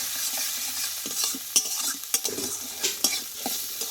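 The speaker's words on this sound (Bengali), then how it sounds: "দিয়ে মশলাটা আমি একটু ভেজে নেব একটু" Spice paste with turmeric powder and salt fries in a pan for a thin puti fish curry, giving a steady close sizzle broken by scraping stirring strokes and light clicks of a spatula against the pan. No one talks.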